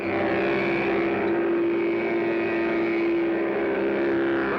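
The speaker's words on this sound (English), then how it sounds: "Sounds like a real engine." A continuous buzzing toy engine drone from a Mattel trike toy, steady and loud, holding a constant pitch without pauses.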